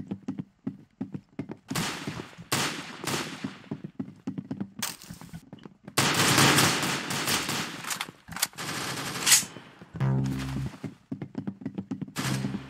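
Bursts of rapid gunfire in the video game Arsenal, sharp and close, come in quick volleys with brief pauses, then a dense stretch of heavier automatic fire.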